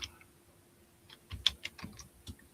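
Typing on a computer keyboard during a live auction, a quick irregular run of faint, close clicks and taps with no voices.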